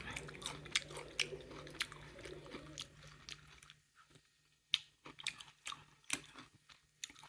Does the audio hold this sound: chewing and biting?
yes